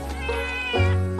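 Cartoon cats meow in a short, close, loud series of high, wavering cries heard alone, with a stronger cry near the end.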